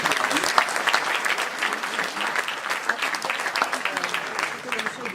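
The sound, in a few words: audience applause at political speech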